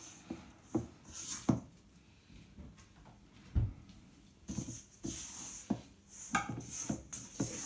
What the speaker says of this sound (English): I'm stirring around with a spatula so that this bread dough comes together.